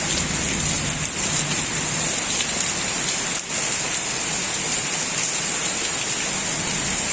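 Heavy rain pours down steadily onto a garden, a dense, unbroken hiss that stays loud for the whole stretch with no voices.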